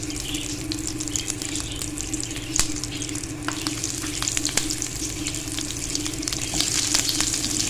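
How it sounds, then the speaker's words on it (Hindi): Bread cheese rolls frying in hot oil give off a steady, close sizzle with crackling bubbles throughout, with a few sharper pops and a slight swell near the end. "अब मैं बाकी के भी फ्राई कर लूँ।"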